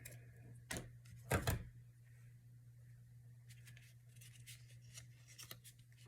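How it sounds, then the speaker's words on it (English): A pair of scissors trims a small edge off a piece of paper: two or three short, crisp snips close by, the second burst slightly longer, over a steady low hum. "I'm gonna cut this little edge off here"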